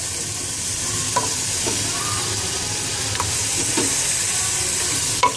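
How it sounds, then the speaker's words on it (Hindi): Chicken fries in ginger garlic paste and onion with a loud, constant sizzle, broken by scattered stirring taps and a scrape near the end. "आप देख सकते हैं चिकन को यहाँ जिंजर गार्लिक पेस्ट और प्याज में फ्राई कर लिया"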